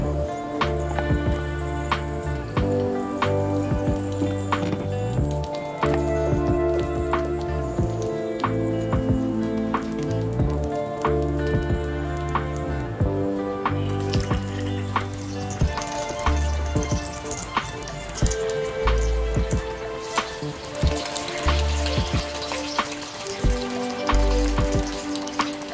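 Sabudana vada frying in hot oil, with a continuous crackling sizzle running throughout and a layer of steady musical tones underneath.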